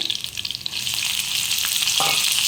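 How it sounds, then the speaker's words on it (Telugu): Dried shrimp frying in hot oil with garlic, cumin, mustard seeds, curry leaves and dried chilli for a brinjal gongura curry: a steady, close hiss with a few soft stirring scrapes and no voice. "కొంచెం బాగా వేయించుకోవాలండి లేకపోతే పచ్చేసినట్టు చూడండి ఇలాగే వేయించుకోవాలి"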